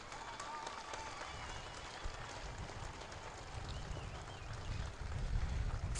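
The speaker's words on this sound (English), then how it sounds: "I request you all stand up and clap for them." A standing audience at a mourning ceremony for General Moses Ali claps together in sustained, dense applause, a steady wash of many hands that swells louder near the end, with no clear speech over it.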